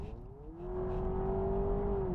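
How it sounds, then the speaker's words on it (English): A new Honda Prelude hybrid engine hums quietly, its pitch climbing in one smooth rise before holding at a steady, sustained drone with no voices. "Engine speed increases and decreases when you press that button"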